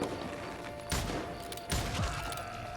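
Two pistol shots ring out in the Call of Juarez: Gunslinger video game. Each is a sharp crack followed by a brief echoing tail, the pair spaced under a second apart over a steady background hum.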